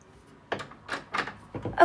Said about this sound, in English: I thought somebody was knocking on the door.